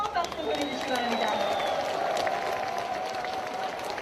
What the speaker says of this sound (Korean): 시민 여러분, 다시 한번 뜨거운 박수 보내주시기 바랍니다